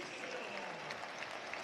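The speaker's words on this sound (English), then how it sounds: "Standing ovation. Good round of applause." A football stadium crowd gives a standing ovation to a substituted player at a Sunderland versus Luton Town match. Brief, dense, steady clapping fills the whole moment at a distance, with no clear voices.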